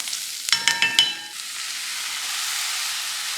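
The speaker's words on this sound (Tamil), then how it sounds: "நம்ம வந்து கட் பண்ணி வச்சுருக்க வாழைப்பூவை சேர்த்துக்கலாம்." Chopped banana flower tipped into a pan of sautéing onions: a quick cluster of clinks and thuds is followed by a loud, steady sizzle that carries on evenly, with no voices.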